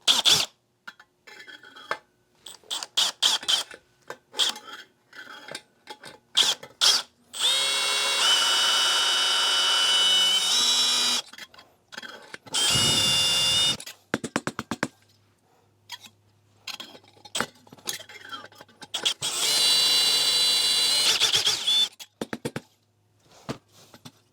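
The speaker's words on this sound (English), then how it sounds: "we will drill out the middle of the NRV valve through that hole" Power drill boring out the center of a Coleman lantern check valve (NRV), running in three long sustained bursts between short blips and quieter handling noise.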